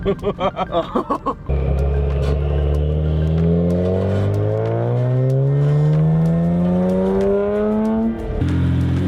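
A new Nissan Z with a 3-inch straight-pipe exhaust at a drag strip blips loudly, then launches into a long, raspy, rising full-throttle pull through the gears, close and very loud, with brief distant chatter.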